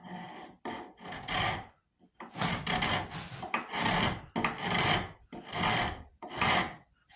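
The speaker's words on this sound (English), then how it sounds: "I'm gonna start with a little rasp." A coarse rasp files the wooden stock of a .50 caliber St. Louis Hawken rifle in repeated strokes, about nine rough, scratchy passes with brief pauses between them, close up and without voices.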